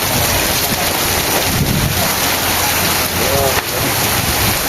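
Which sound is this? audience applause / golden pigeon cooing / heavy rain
heavy rain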